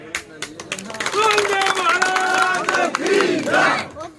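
A dense crowd of voters at a political rally cheers and shouts in a loud, sustained roar, with voices rising and falling close by and scattered claps mixed in.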